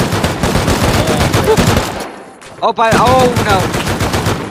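Loud, sustained automatic gunfire in the survival game Rust roars almost without pause, with a brief drop-out midway, while a voice speaks briefly over it.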